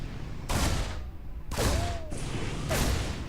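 Reaper attacks in StarCraft 2: three short bursts of rapid gunfire spaced about a second apart, each with a brief whooshing tail, fairly loud against a low background.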